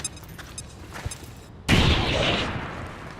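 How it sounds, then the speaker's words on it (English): A frag grenade goes off in the XCOM 2 strategy game: a sudden loud explosion bursts out after a quieter stretch, then a rumbling, debris-filled roar slowly fades. "And we're going to throw a frag with you."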